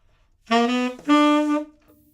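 Two sustained, reedy instrumental notes sound one after the other, the second slightly lower and longer, clear and alone against silence.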